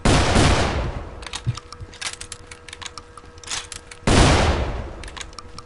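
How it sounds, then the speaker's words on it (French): Loud, booming double-barreled gun blasts in the video game Call of Juarez: Bound in Blood, one near the start and another around the four-second mark, with scattered clicks and mechanical rattles filling the gaps between. "Voici maintenant les doubles canons aussi."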